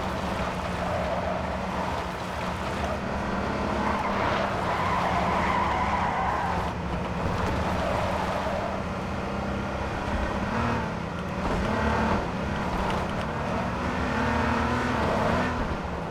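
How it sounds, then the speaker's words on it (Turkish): A car in the H1Z1 video game drives hard and skids, with a continuous loud engine roar, repeated tire squeals and sliding noise that last throughout. "Tamam bir de araba kovalamacası yapalım."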